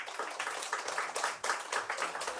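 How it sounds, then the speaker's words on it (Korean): Church congregation applauding at a Sunday service, a steady wash of many hands clapping with irregular surges, moderately close and continuous throughout without speech. "나오실 때 박수로 환영해 주시고요."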